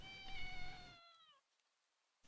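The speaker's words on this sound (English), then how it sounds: "But there's a second meow, I only heard one." A single cat's meow, clear and drawn out with a falling pitch, followed by near silence and a faint tap at the end.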